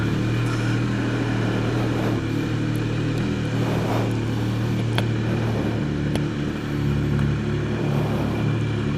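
A motorcycle engine idles steadily while warming up in the cold after starting, an even, low, throbbing hum that stays constant and close with no talk.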